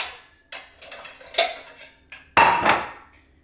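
Ceramic plates being set out for pierogi dough on a kitchen counter, clinking and clattering in several distinct knocks, the last two closest and loudest, with no talking.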